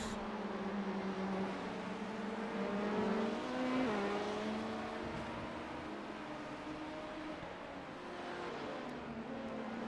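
LMP2 prototype race car engines roaring around Daytona in a racing video game, a dense sustained drone with shifting pitch as several cars run close together, steady and loud throughout.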